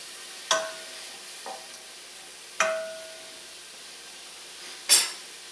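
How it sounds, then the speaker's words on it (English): Mushrooms cooking in olive oil in a pot, with three separate scraping stirs spaced a couple of seconds apart over a faint, quiet background. "back to my mushrooms. Let's get these to cook."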